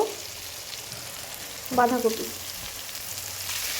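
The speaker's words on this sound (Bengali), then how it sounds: "বাঁধাকপিটা 2 মিনিট নেড়ে নিয়েছি।" Shredded cabbage stir-frying in oil for chowmein, a steady low sizzle with a brief voice-like burst partway through.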